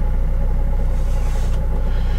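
A Renault Kangoo engine on a cold start runs with a rapid, steady knocking tick from the alternator clutch over a low idling rumble. It is loud and close, with no talking.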